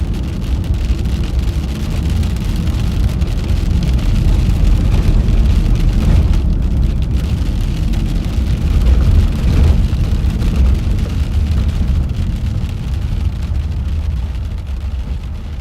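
Heavy rain from a storm in southeastern Colorado, heard from inside a moving car as a loud, steady wash of rain and road noise with no break.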